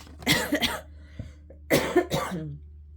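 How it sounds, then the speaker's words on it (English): Two sharp coughs, then a pause and a quick pair of harsher coughs, close and loud in a quiet room. "Excuse me, I still got this cough. It's so annoying."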